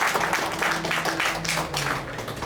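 Scattered audience clapping at a talk about a tennis player, a brief patter of hands at moderate volume with some murmuring underneath.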